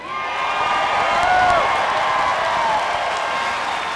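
Cheering crowd in the video game Resident Evil, a dense, loud wash of whoops and shouts that swells around the middle and holds steady to the end, without clear clapping.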